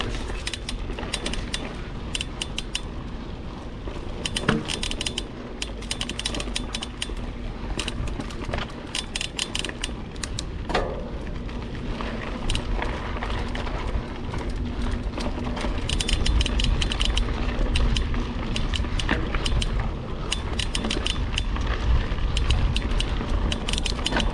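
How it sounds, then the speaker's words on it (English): A mechanism creaks and ratchets for the whole stretch, with repeated dry clicks and rattling gear-like sounds, steady and close, and a few sharper creaks stand out. "I'm gonna regret not fixing this creaking noise."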